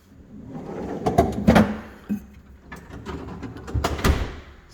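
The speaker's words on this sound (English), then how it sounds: "Then it's got a freezer with another rollout." A counter-depth refrigerator's rollout freezer drawer slides on its runners, with several rolling rumbles and soft knocks close by, rising and fading over about five seconds with no talk.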